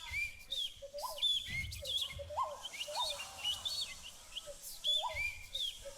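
A beatboxer at the Grand Beatbox Battle 2019 imitates birds chirping, with a voice producing repeated high tweets and whistled chirps in loose rhythm over a soft low beat, moderately quiet.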